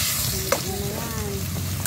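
Food sautéing lightly in a pan for tuna pasta, a steady close sizzle with a sharp tap of a utensil and a faint tonal whine running underneath.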